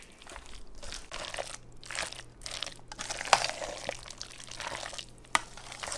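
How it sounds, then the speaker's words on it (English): Crunchy homemade potato salad with celery and sweet pickles being chewed, producing repeated moist crunches close to the mic with wet, crinkly bites in an uneven rhythm and no talking. "the crunch from the celery"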